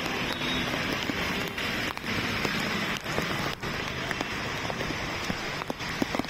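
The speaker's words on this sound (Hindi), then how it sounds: "मुंबई समेत महाराष्ट्र के कई जिलों में भारी बारिश जारी है।" Heavy rain pours steadily over Mumbai during monsoon flooding, a dense, continuous hiss of drops striking surfaces with no pause across the whole stretch.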